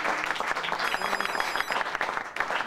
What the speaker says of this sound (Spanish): voy a pedir un fuerte aplauso, por favor